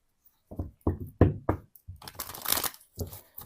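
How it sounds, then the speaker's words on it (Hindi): Tarot cards shuffled by hand up close, a string of soft crisp slaps and riffles followed by a brighter rustling burst, with no talking. "सबसे पहले मैं करूँगी आपके कार्ड्स को शफल।"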